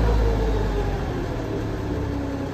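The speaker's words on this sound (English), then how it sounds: "Crank the engine up, throttle it." A diesel engine on farm equipment readied for hay season runs loud and close with a steady droning hum that eases slightly after throttling, with no talking.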